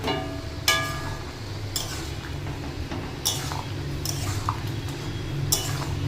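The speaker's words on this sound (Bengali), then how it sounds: "চিনি দিয়ে হালকা নাড়িয়ে চাড়িয়ে নিয়েছি" Vegetable curry with pumpkin, potato, ridge gourd, eggplant and prawns gets a light stir in a pan after a pinch of sugar, giving a few sharp clinks and scrapes of a utensil against the pan over a soft steady sizzle.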